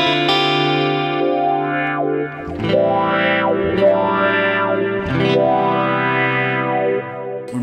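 Electric guitar with Seymour Duncan JB and 59 pickups in a Charvel San Dimas, played clean through a Fractal Audio FM3: sustained chords ring out one after another, with swirling modulation and reverb, loud and alone.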